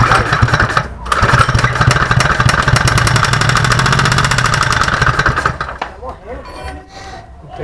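Newly installed boat motor cranking to life and revving loudly for several seconds, then sputtering down toward a rough idle. Voices can be heard in the background.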